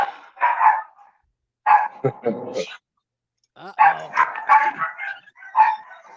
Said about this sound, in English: They're barking. Yeah, that's the dang dogs.